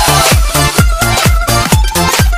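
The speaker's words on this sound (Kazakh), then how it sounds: "Жасур менен Перида бақытлы болсын дегелер, шапалақ ұрайықшы." Rhythmic clapping from a wedding crowd celebrating the couple Jasur and Perida, a steady dense patter of many hands that carries on unbroken and fairly loud.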